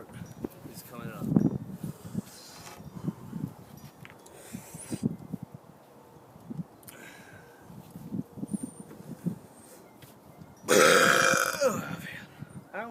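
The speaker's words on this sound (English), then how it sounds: "big burp is coming up." A big, loud burp erupts near the end, a sustained bursting belch following a stretch of a voice and quieter mouth noises.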